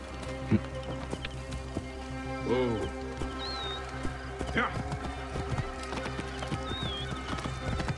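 Horse hooves clip-clop beneath game music in Assassin's Creed Origins, with a short whinny partway through; a voice speaks over it at times.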